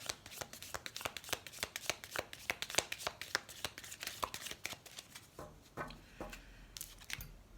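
Elf oracle cards are shuffled in a quick, steady run of papery riffles and slaps close to the mic, ending in a few softer shuffles and card handling.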